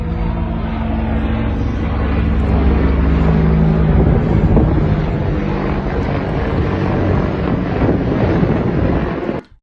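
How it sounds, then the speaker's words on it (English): An Iranian Shahed 136 delta-wing drone flying overhead, a loud, steady engine drone mixed with wind buffeting, holding strong for several seconds before cutting off sharply. "That's the Iranian drone right there."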